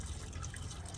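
Windshield washer fluid poured into a car's reservoir during a general service, a brief soft trickle and gurgle of liquid close by, steady and quiet with no talking.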